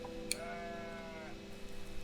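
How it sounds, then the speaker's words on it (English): Demonic goat bleating in the video game OneShot, a single wavering, drawn-out synthetic bleat over a steady droning game soundtrack, with a short sharp blip just before it. "Where's the goat? Like the demon goat."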